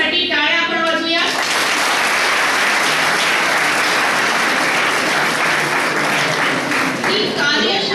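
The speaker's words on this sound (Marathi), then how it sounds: "सगळ्यांसाठी टाळ्या आपण वाजवूया." Audience at a university youth workshop breaks into loud, sustained applause that swells quickly and continues densely for several seconds, with a voice and a few other voices heard briefly at the start and end.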